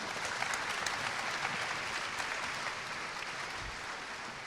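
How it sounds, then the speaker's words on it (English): A conference audience at a venture capital and dealmaker panel in Hong Kong claps in a continuous, fairly faint round of applause, with scattered sharper hand claps standing out from the even hiss. "let's give our VC and Dealmaker panelists a round of applause"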